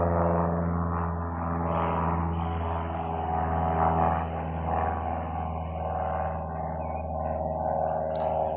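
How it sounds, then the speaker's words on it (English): An airplane flying overhead produces a steady, continuous engine drone with a low rumbling hum that holds evenly throughout, with no voices over it. "Hey, there's an airplane!"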